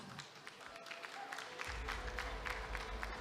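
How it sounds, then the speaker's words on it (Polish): Applause from a crowd at an MMA event, honoring a fighter after a defeat, a dense steady clatter of clapping that swells partway through with a low rumble of the arena underneath. "Brawa dla Mielonidasa"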